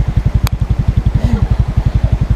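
A motorcycle engine sputters with a steady, loping chug of firing pulses, close and loud, sounding strained as it runs beside a river at a camp, with a brief sharp click partway through.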